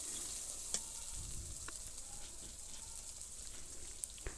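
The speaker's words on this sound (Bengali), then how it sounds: "এবার এটাকে আমরা খুব সুন্দরভাবে নেড়ে দিব, যাতে এটা মশলার সাথে খুব সুন্দরভাবে মিক্সড হয়ে যায়" Beef tripe being stirred with spices in a kadai, a soft, quiet sizzle with occasional scraping and clinking strokes of the spoon, no speech.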